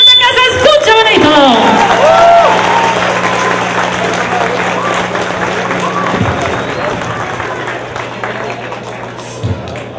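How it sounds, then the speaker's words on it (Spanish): An audience at a family celebration in Gainesville, Georgia applauds and cheers, a loud crowd roar with whoops at the start that slowly fades over ten seconds beneath a steady low hum. "¡Venga el aplauso nuevamente, que se escuche bonito!"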